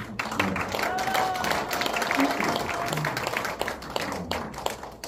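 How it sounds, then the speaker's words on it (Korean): Audience applause for the chairman at a Korean knowledge forum lecture event, a steady spread of clapping that runs for several seconds at moderate level with some murmuring in the room. "우리 백원의 회장님께 고맙다는 박수 한번 주시죠"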